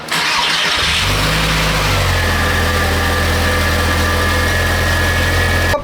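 A supercar engine cranks and catches about a second in, then settles into a loud, steady, rumbling idle close by that continues to the end.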